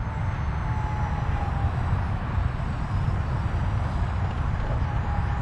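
A radio-controlled A-10 Warthog model jet flies overhead in a steady, loud whooshing roar with a thin high whine, sustained without a break and no voices over it.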